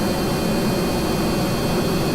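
Griffin jet engines in Kerbal Space Program run as a steady, loud, even roar of broadband engine noise with a low rumble, holding constant with no voices.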